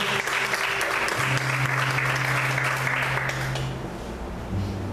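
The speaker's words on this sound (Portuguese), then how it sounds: "Aplauda o Senhor, amém, com bastante alegria." A church congregation breaks into loud, dense applause that carries on evenly for several seconds and then tapers off, with a low sustained tone droning beneath the clapping.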